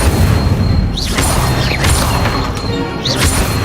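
A loud, dense barrage of magic-combat effects from Hogwarts Legacy as the Incendio fire spell is cast, with booming, crashing bursts and a few rising whooshes running throughout, no talking.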